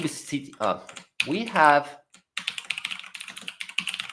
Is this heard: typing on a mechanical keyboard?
yes